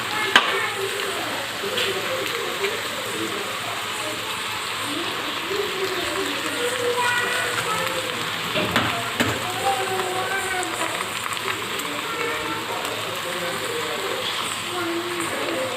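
Eggs cracked into a hot pan sizzle and crackle for homemade egg fried rice, a steady, fairly loud frying hiss that runs unbroken from start to end with faint clinks over it.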